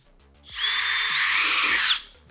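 A power drill bores a hole for mounting a self-tapping splitter, giving a loud, steady whine of about a second and a half close by, with quiet talk before and after.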